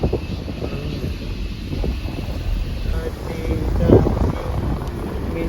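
Cold wind rushes past during a family car road trip in the Idukki hills, buffeting the microphone with a loud, continuous roar that swells slightly toward the end.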